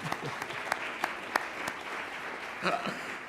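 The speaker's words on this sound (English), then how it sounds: "you can all clap for yourselves" A forum audience claps in a brief burst of applause, scattered sharp claps standing out over a steady patter that fades toward the end.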